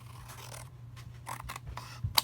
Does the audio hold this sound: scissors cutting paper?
yes